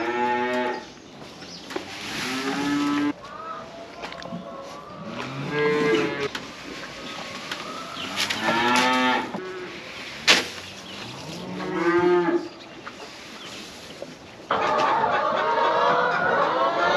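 Cattle moo repeatedly from barn pens on a farm, several loud drawn-out calls spread across the stretch, with faint clucking from chickens in the background.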